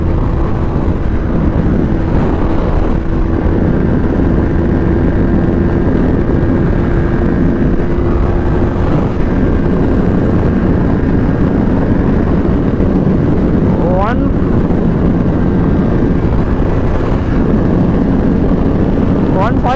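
KTM RC200 BS6 and Yamaha R15 V3 BS6 motorcycles in a drag race, heard as a loud, steady engine drone mixed with heavy wind roar throughout, with a voice talking over it.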